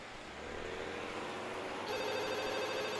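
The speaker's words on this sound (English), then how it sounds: "A familiar, soft ringing begins to sound from Lily's side." A mobile phone rings in the visual novel Katawa Shoujo, a soft, steady electronic ringtone that brightens after a couple of seconds and carries on alone without any talking.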